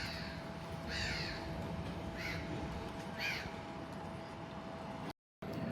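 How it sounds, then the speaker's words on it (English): Seagulls screech outdoors on a walk around Farnworth, giving three short, harsh calls about a second apart at moderate distance over a steady background hum and low rumble. "you probably overheard seagulls screeching"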